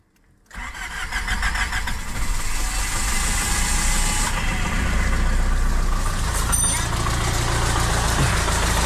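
A diesel truck engine, with injectors damaged by water-contaminated fuel, cranks and catches after a short silence, then settles into a loud, steady, rumbling idle close by.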